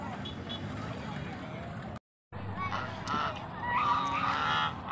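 Geese, including white domestic ones, honk repeatedly across the whole stretch, with a brief silent gap in the middle and louder calls toward the end, while a person talks nearby.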